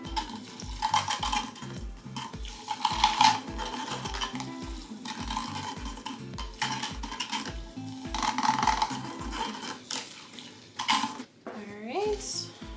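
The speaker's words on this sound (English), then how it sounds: "I'm gonna use my mini whisk and blend this all together" A small mini whisk stirs and blends a bath bomb mixture in a bowl, giving a steady, rapid run of clinking, scraping strokes against the container that stays close and fairly loud throughout.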